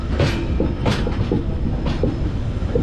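Inside a sleeper coach of the Kannur to Yesvantpur express, the train rumbles along with a steady low roar, punctuated by a rhythmic series of wheel clacks over rail joints.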